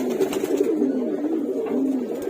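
Pigeons coo in low, repeated throaty calls at close range while waiting for feed, several soft coos overlapping over a couple of seconds.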